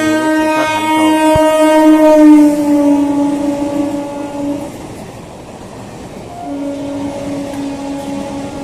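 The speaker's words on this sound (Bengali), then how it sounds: "31828 down Krishnanagar city Sealdah galloping local." The Krishnanagar City–Sealdah galloping local EMU train passes through Kanchrapara Workshop Gate station. Its loud horn blares in long sustained blasts over the rumble and clatter of the wagons close by, then the horn sounds again more softly.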